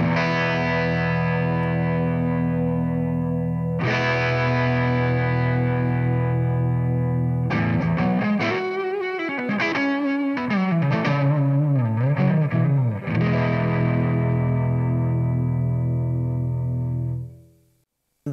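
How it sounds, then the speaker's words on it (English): Electric guitar through a TC Electronic G-System with distortion and a Leslie-style rotary speed-ramp effect, sounding as sustained chords with a busier, warbling run of notes in the middle before the final chord fades out. "You can hear it better if I add some distortion."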